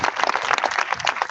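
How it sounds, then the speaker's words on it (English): A crowd at a groundbreaking ceremony applauds, many hands clapping in a dense, lively patter that holds steady throughout. "But I think a big round of applause and a tremendous thanks goes to Mr. G for tying in all the loose ends"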